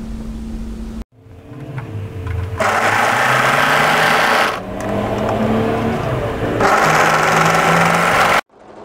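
A sewing machine stitches the matched raw edges of a drop-shoulder raw-hem tee's shoulder seam in two loud, sustained whirring bursts separated by a short pause, close and alone.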